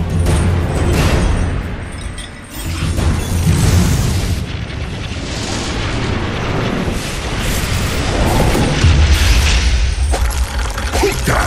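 Loud, dense explosions and booming impacts from a Dota 2 match as a middle tower comes under attack, a continuous thick wall of blasts with heavy low rumble.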